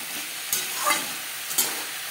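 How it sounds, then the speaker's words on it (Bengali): Chopped radish with spices sizzles in a frying pan while it is stirred, with a few louder spatula scrapes breaking a steady hiss. "2-3 মিনিট মশলার সাথে মূলো নাড়াচাড়া করে নেওয়ার পর"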